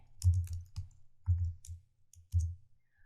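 A computer keyboard clicks as someone types code, with three short clustered bursts of keystrokes separated by quiet pauses, close and fairly soft.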